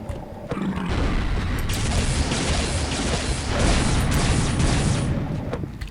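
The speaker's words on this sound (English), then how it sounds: "These ones make a shot combo." Plasma arrow shock combo from Unreal Tournament 99 with the Unreal4ever mutator: a sudden loud blast that swells into a sustained, roaring crash of broadband noise for several seconds, with a second surge midway.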